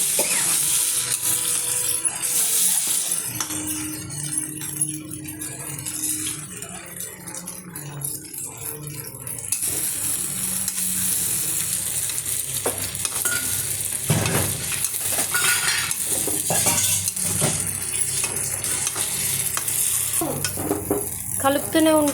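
Food frying in a pan for a breakfast dish, stirred constantly so it does not stick: a steady close sizzle runs throughout, with scraping and clinking of a spoon against the pan, and no talking.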